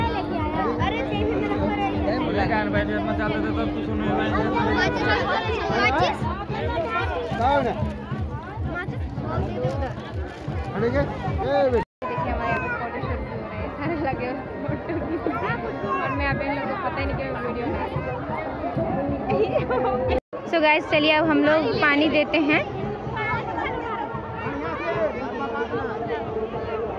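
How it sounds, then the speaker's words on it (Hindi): Dense crowd chatter and babble at a crowded river ghat during Chhath Puja, steady and close throughout, with people talking nearby over the hubbub. "कितना भीड़ है यहाँ पे देखो"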